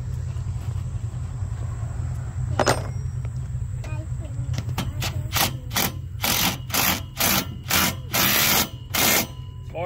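Bolts are tightened on a Polaris RZR spare tire mount with a ratcheting tool, close and loud, in a run of rapid clicking bursts that speed up over a steady low hum of background noise.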